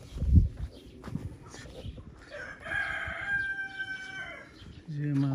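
An American-breed rooster crows in a village farmyard, one drawn-out crow rising and held near the middle, with a low thump and other fowl sounds around it.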